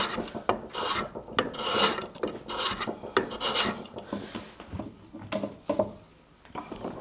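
A hand plane rasps across the end grain of a wooden board in short, repeated strokes, each a close, scratchy cutting stroke with brief pauses between passes.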